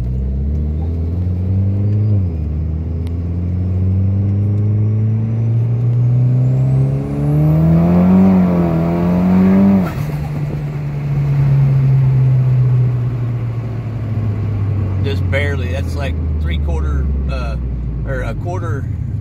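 A turbocharged Mitsubishi Lancer Evolution X running over 30 psi of boost accelerates hard from inside the car. The engine drone climbs steadily in pitch under a rising turbo whistle, dips at a shift, then pulls again with loud rumble and some clattering toward the end.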